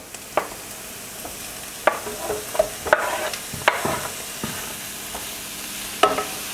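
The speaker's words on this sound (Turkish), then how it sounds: "Şimdi mantarları ekliyorum." Mushrooms sautéing with wild asparagus in a pan, a low constant sizzle close by, punctuated by several sharp clacks and scrapes of a utensil stirring, with no one speaking.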